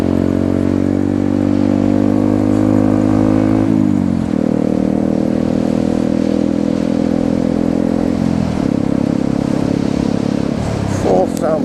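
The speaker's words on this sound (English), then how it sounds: "Fourth sounds a bit laboured for the Grom. You want to keep the revs up really, don't you?" A Honda Grom motorcycle engine labours in fourth gear, a loud continuous low drone that steps down in pitch at gear changes, with voices talking over it from the rider's position.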